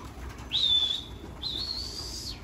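Two drawn-out, high, thin whistles sound close by where flying tumbler pigeons are kept, the second longer than the first, over faint background hum.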